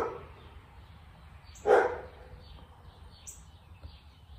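A dog in a blacksmith's workshop gives one sharp bark in the middle, a little distant, with faint higher yips afterward over steady low room noise.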